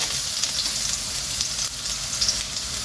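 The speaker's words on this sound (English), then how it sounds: "The carrot, I love that sound. I love the sizzle." A loud, steady hiss of carrots sizzling in a hot wok with garlic-infused chili oil, with crackles and small pops throughout and no talking.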